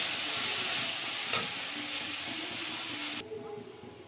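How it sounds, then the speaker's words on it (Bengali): Spice paste with coriander leaves for a Lote fish curry sizzles loudly in a hot pan, stirred with a steady hiss and light scraping, before the frying noise suddenly drops away. "এবারে দিয়ে দেবো অল্প একটু ধনে পাতা, দিয়ে আর একটু কষে জল ঢেলে দেবো।"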